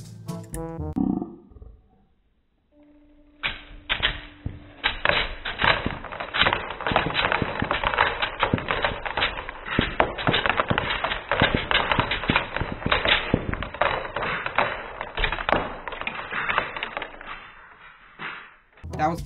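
A Lego turret with 44 missiles fires a long rapid volley of plastic launches, dense loud clattering snaps and whooshes for about fifteen seconds after a brief voice at the start.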